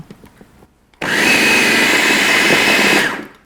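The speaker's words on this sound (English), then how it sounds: "And now we just want to blend them until they're well combined." A blender whirs loudly and steadily for about two seconds, mixing almond flour, cocoa, salt and baking powder for gluten-free black bean peppermint brownies, starting abruptly after a quiet lead-in and winding down at the end.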